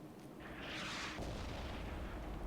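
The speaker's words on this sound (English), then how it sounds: "Our artillery just put a shot in." A single artillery shot in World of Tanks, a deep booming blast that swells and then rolls into a low rumble, heard at a distance and fairly faint.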